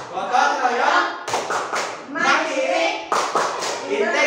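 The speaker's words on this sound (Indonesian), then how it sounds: "kita tepuk PPK dulu" Children chant together in a rhythmic classroom clapping routine, the tepuk PPK, at a primary school lesson, with sharp hand claps in bursts mixed with group voices, loud and close.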